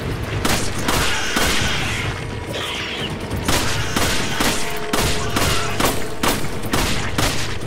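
Gunfire aimed at a mine in the video game Resident Evil 5: rapid bursts of sharp shots, some heavier booming hits, repeating steadily and loudly with no talk.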